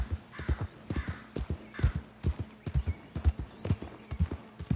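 Horse hooves clip-clop at a steady walking pace in Red Dead Redemption 2, near and distinct, a regular run of hoofbeats over a faint game ambience.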